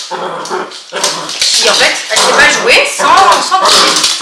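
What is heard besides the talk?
small puppy whining and yapping while playing with toy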